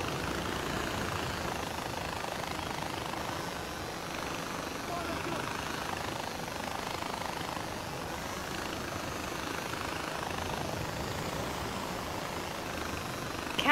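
Helicopter in the video game Far Cry 4 flying with a steady, loud rotor and engine drone that holds constant throughout, while a voice talks over it.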